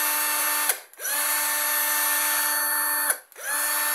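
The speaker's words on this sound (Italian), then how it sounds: "Ve lo faccio sentire acceso" Black & Decker BDCDD12 cordless drill driver runs with a steady high whine, stops briefly and spins up again, heard close and alone.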